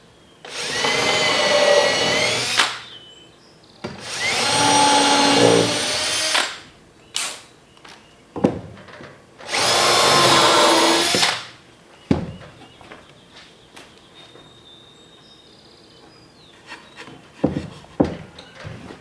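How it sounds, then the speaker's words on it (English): A power drill whirs through cedar boards in three long bursts, pre-drilling them, followed by several short quick blips and some handling clatter between them. "we'll pre-drill these."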